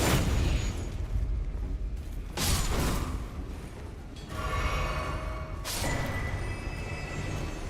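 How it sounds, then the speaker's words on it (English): Explosions from summoned allies in the Elden Ring DLC go off in bursts, several broad booming blasts that swell and fade across a busy game soundscape, loud and near. "Your own summons explosions hurt you?"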